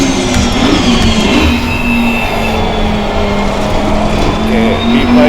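An Audi R8 GT3 race car accelerates hard at the Kyalami circuit, its engine heard onboard as a loud, steady drone that climbs gradually in pitch.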